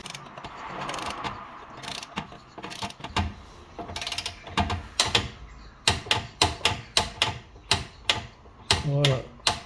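Torque wrench ratcheting while tightening a fragile plastic part to 25 Nm on a Porsche 981 GT4 during an engine oil change, a run of close, sharp ratchet clicks in quick succession after some handling noise.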